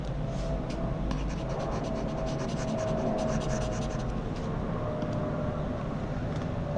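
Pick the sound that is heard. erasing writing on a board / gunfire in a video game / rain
erasing writing on a board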